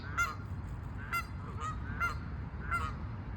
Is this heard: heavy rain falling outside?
no